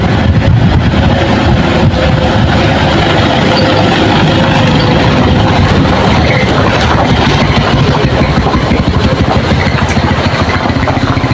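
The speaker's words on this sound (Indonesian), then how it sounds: "dilewati sebuah mobil." A car crossing an old Dutch colonial bridge of wood and thin iron plate in Indonesia: a loud, constant engine drone with rumbling, rattling texture from the timber deck, close and unbroken for the whole stretch.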